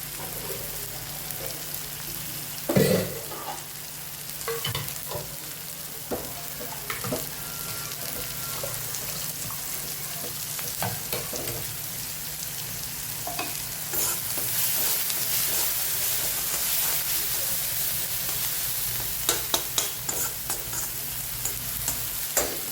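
Tomatoes cook down in a pan for a mixed dal, with a steady sizzle, a sharp clatter near the start and repeated scraping stirs and taps throughout, close and without speech.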